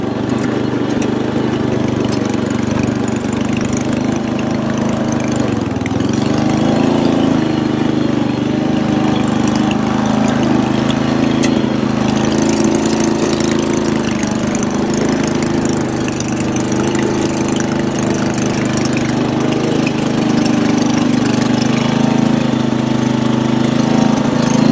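A Toro 8-32 riding lawn mower engine runs steadily at close range, a loud continuous mechanical drone with its exhaust right behind the seat, holding an even level throughout.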